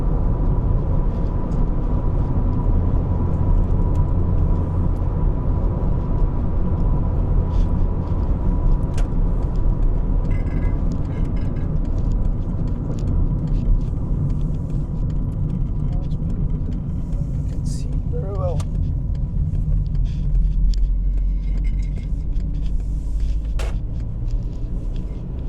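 A 1.4-litre Volkswagen Golf drives along Scottish country roads, with a steady engine and road rumble continuing throughout and a voice talking over it.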